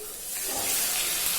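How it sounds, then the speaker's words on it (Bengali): Fish fat frying in hot oil, a short steady hiss and sizzle that swells slightly, with no voice over it. "এই দেখ, দেখেছিস মাছের তেলটাকে আমি ভাজছি"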